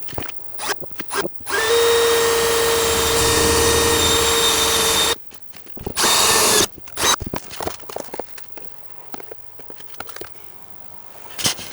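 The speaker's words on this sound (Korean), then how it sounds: "구멍 2개 뚫었다고 쇳가루가 이만큼 나옵니다." A drill bores through the sheet-metal body of a Renault Master van camper conversion: one long, loud, steady whine, a brief second burst, then scattered clicks and handling knocks nearby, with no talking.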